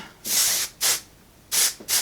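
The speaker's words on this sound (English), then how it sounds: "Let's spray a little bit" Four short hissing bursts of hairspray, two longer then two quick, close and loud with brief pauses between.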